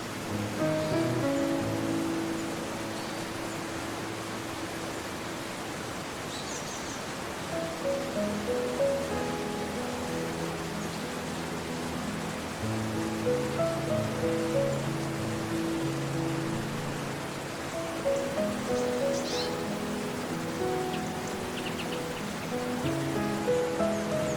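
A waterfall in Sweden's southernmost national park gives a steady, even rushing roar throughout, blended with soft melodic background music.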